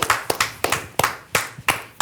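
A small group clapping during a Martinique talk show, about eight distinct sharp claps in an uneven rhythm, close and fairly loud with no talking.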